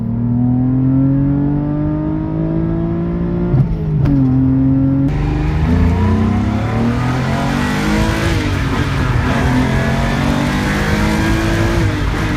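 A Mazda MX-3 with a 1.8 V6 revs steadily, its exhaust droning loud and close, with the pitch dipping and climbing as the throttle changes.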